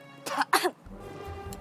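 A person coughs twice after choking, sharp close bursts in the first second, followed by quiet room tone.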